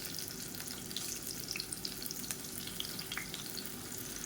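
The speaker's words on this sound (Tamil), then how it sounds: "இப்போ வாழைக்காய் நல்லா ஊறிடுச்சு எண்ணெய் நல்லா சூடாயிடுச்சு ஒவ்வொரு வாழைக்காயாக சேர்த்துக்கலாம்" Soaked raw plantain slices shallow-frying in hot oil in a pan for a South Indian plantain fry. A steady, dense, close sizzle runs throughout, dotted with scattered sharper crackles and pops, with no voices.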